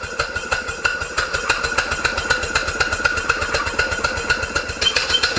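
A Stuart model steam engine runs without oil, a rapid steady mechanical chuffing and knocking with a regular rhythm, close and moderately loud.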